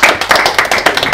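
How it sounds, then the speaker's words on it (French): Audience applause breaks out at a French Hexagone MMA press conference: a brief, dense burst of many hands clapping together, with quick sharp claps pulsing close and loud throughout. "Merci pour les applaudissements."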